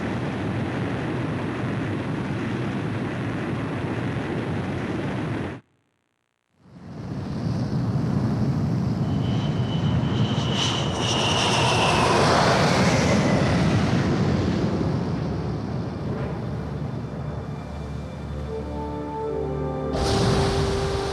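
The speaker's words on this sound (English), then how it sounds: "Aircraft launch confirmed. Catapult crew will now evacuate the ship." Jet aircraft catapult launch from a carrier in the video game Ace Combat 5, a loud roaring wind-like rush that cuts to brief silence, then surges back in a long swelling roar before fading.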